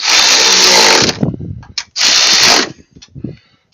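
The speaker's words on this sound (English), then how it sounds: "Now we can tighten that. And of course, go here and tighten these." Power tool or ratchet tightening bolts on the front strut of a 2011 Honda Accord coupe: two loud sustained mechanical whirring bursts, each about a second long, with short clicks and clatter between them.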